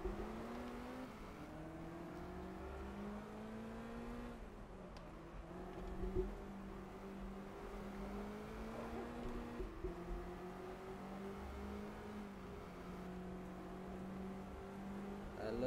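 Lotus Cortina racing car engine in the video game GT Legends at Anderstorp South, revving and droning steadily through gear changes, with pitch rising and falling as it brakes late and accelerates again, loud and continuous with no voices.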